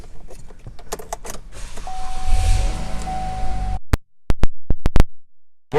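Power window motors in a 2014 Chevrolet Impala LT hum briefly inside the car, followed by several sharp clicks and thumps of switches and door hardware, close and loud with no voices.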